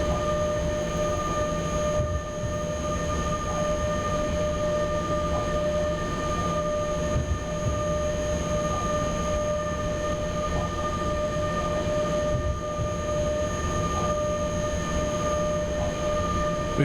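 A heavy train rolls along in the railway simulator SimRail, a steady low rumble and mechanical drone with sustained tonal whine from the drive, continuous and fairly loud with no voices.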